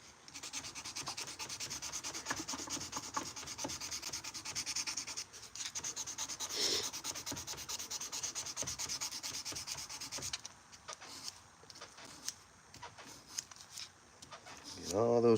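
A forged knife blade is hand sanded with steady rubbing strokes, fairly quiet, and the scraping texture shifts partway through. Brief faint sounds appear near the end.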